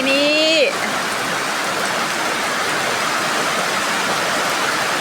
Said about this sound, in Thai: นอนฟังเสียงฝน